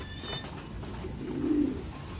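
Low, soft cooing from a female pigeon close by, a muffled murmur that swells briefly near the middle of the short stretch, with no talking.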